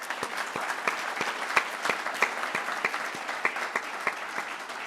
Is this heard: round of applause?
yes